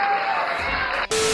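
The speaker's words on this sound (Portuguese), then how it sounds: "Mais aplausos." A loud crowd cheering and applause sound effect with a bright tonal ring, briefly cut off, then resuming abruptly.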